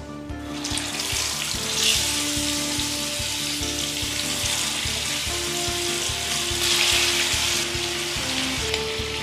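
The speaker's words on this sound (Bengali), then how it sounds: "তেলটাকেও ভালো করে গরম করে নিয়ে দিয়ে দিচ্ছি ম্যারিনেট করে রাখা চিকেনের পিসগুলো।" Marinated chicken pieces frying in a cup of hot refined oil for Kashmiri chicken masala curry, a steady loud sizzle and crackle throughout, with a faint repeating low hum underneath and no talking.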